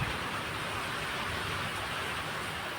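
Light rain falls in a steady, even hiss with no distinct drops standing out, continuous and moderately loud for the whole stretch, with no voices.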